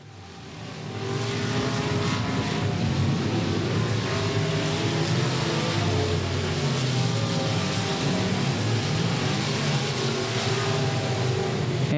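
A heavy race car on a dirt oval at Golden Triangle Raceway Park sends out a loud, steady engine roar, with other cars droning along with it. The noise builds at the start and then holds dense and unbroken throughout.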